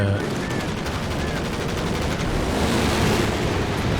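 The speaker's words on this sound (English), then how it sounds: "And strafing support called in." Dense, continuous gunfire from an aircraft strafing run in the WWII strategy game Company of Heroes 2, steady and loud across the whole stretch with a rumbling, roaring battle wash beneath it.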